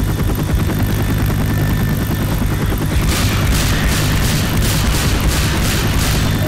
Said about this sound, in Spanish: Lucho, alguien que salte al helicóptero, por favor